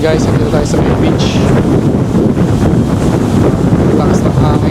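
Strong wind buffets the microphone on Boracay beach at Station 2, a steady loud roar of gusts and rumble with surf-like wash throughout, no clear voices.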